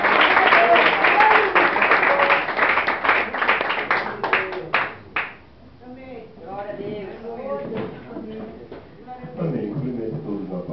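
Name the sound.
audience applauding a preacher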